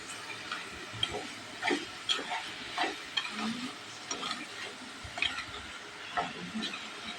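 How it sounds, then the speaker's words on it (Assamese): Pieces of pork are stirred as they fry in a pan. The utensil scrapes and knocks in repeated, uneven strokes over a soft, close sizzle. "পুনৰবাৰ লৰাই দিছোঁ।"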